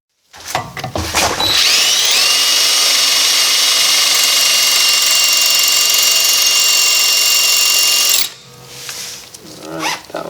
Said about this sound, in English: I'm just going to drill the heads out of these.